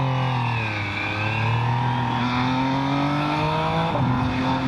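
An MV Agusta Brutale 800RR three-cylinder motorcycle pulls away and accelerates, its loud, close engine note rising through the revs with a brief dip at a gear change before climbing again.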